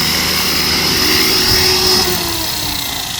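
An X360 radio-controlled helicopter whines loudly and close as it comes in to land, its rotor and motor tone holding steady, then the pitch sliding down as it settles.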